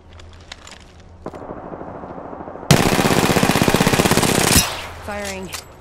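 Sustained automatic weapon fire in Apex Legends, a loud, close, rapid burst of shots lasting about two seconds after a quieter stretch, followed by lighter game sounds.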